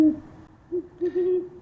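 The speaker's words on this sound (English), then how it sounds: "I heard a competing male owl trying to invade Hootie's territory from the north" Great horned owl hooting at night, a deep low hoot followed by a series of three soft, resonant hoots, fairly distant and alone in quiet surroundings.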